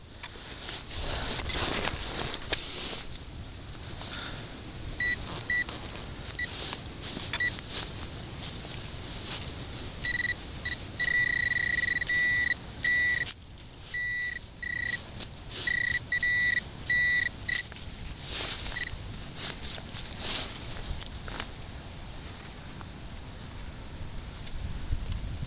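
A Pro Pointer metal detecting pinpointer beeps in woodland in Dorset, giving repeated short electronic tones in bursts and sustained runs over outdoor rustling, fairly close.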